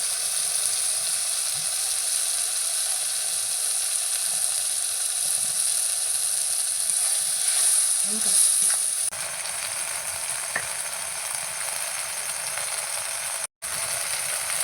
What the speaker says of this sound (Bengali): এবার দিয়ে দেবো হলুদ গুঁড়ো